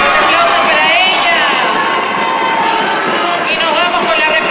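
A carnival pageant audience breaks into loud, sustained applause and cheering for a contestant, a dense roar of crowd noise that fills the space and stays strong throughout.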